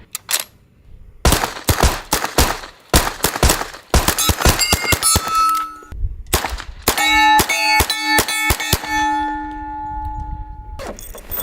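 A gold Tommy gun fires in loud, close single shots and rapid bursts, with metallic clanks and ringing tones sustaining between volleys.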